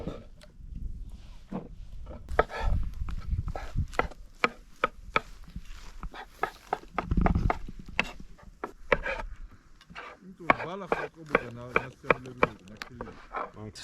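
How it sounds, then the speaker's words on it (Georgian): Mushrooms are chopped on a board for outdoor cooking: a brisk run of sharp, close knife taps in uneven bursts, with brief pauses. Toward the end a voice speaks over the cutting. "სოკოს დავჭერით"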